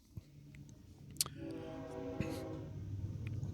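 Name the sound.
train passing by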